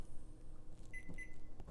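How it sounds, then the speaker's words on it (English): A microwave oven is set to three minutes to cook ramen noodles: two short keypad beeps, then a low, steady hum at quiet volume. "We're going to turn on our microwave to 3 minutes."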